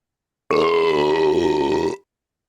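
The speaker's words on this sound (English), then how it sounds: "I'm going to unleash an ungodly belch in his face." A loud, drawn-out human belch lasting about a second and a half, deep and rough with a strong voiced tone, starting abruptly and cutting off alone in silence.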